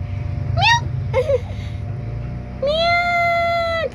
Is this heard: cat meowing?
yes